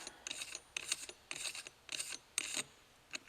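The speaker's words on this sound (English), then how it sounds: "remove your castle nut" Castle nut being worked off the buffer tube of a six-position CAR rifle stock, giving a series of close, dry metallic rasping and scraping bursts in an irregular rhythm, with no talking.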